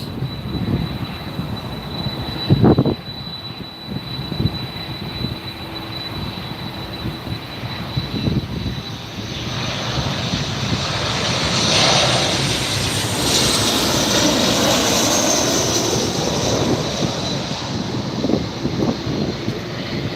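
A Southwest Airlines airliner lands at LAX, its engine roar swelling loud and broad from a distance, peaking and then rumbling steadily on. No one speaks over it.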